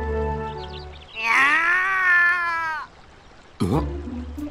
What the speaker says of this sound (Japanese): 猫の鳴き声だ。